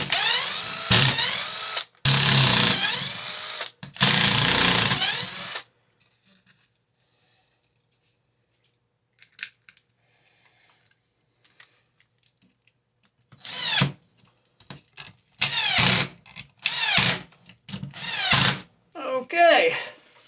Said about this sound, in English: Take out these 4 screws.